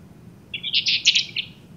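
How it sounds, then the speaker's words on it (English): A recorded bird song played back during a lecture demonstration: a brief bright run of chirps and trills, clear and close over a low background hum, lasting about a second. "It's a bird sound that the subject is listening to."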